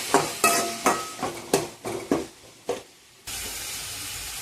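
Onion and tomato frying in a pan for mutton gravy, with about eight sharp scraping stirs at a steady rhythm over a sizzle, then a continuous hiss of frying alone at the end.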